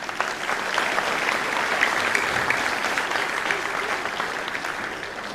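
Audience at an elementary school spring concert applauding, a steady sustained clapping of a crowd indoors lasting several seconds without a break.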